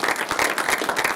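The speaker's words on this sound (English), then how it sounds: "Let's give Dave a round of applause." A short burst of steady audience applause, many hands clapping together densely and fairly loudly, with no pauses.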